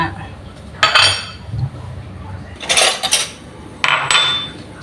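Dishes and cutlery clink and clatter in a few short bursts against a quiet kitchen background, like someone stacking plates while tidying up.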